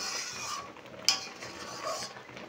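Milk thickening for sandesh is stirred steadily in a pan, producing a quiet, close scraping with one brief metallic clink partway through.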